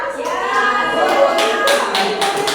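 Children in a classroom clap a rhythmic spirit clap, a lively patterned burst of hand claps with voices chanting along close by.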